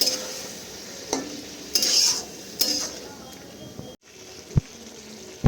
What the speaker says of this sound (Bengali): ভালো করে আবার চিকেনের সাথে মশলা মিশিয়ে নেব